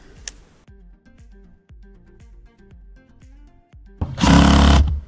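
A power tool tightens screws on a roof skylight in a rapid run of short, regular buzzing pulses, close and fairly loud, ending in a longer, louder whir.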